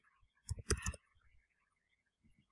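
A few quick computer mouse clicks land in a tight cluster as items are chosen on a web configuration page, with faint softer clicks trailing off afterward in a quiet room.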